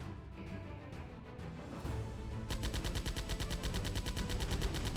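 Rapid automatic weapon fire in the VR shooter Cargo Cult, a dense, steady stream of shots that starts after a couple of seconds of rumbling game noise and continues loud to the end.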